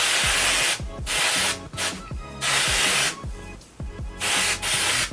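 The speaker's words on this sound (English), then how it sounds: "I'm just going to go ahead and spray down my hairline with some root concealer spray. This is the L'Oreal brand" L'Oreal root concealer spray goes onto a hairline in four or five close, loud hissing bursts, each roughly half a second to a second long, separated by short pauses.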